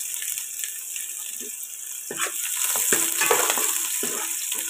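Onions and green chilies frying for prawn biryani make a steady hiss that grows busier partway through, marked by scraping stirring strokes and crackles, fairly close and loud.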